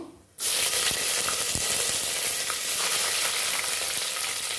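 Onions drop into hot oil and burst into a loud, steady sizzle that continues without pause, with occasional stirring scrapes.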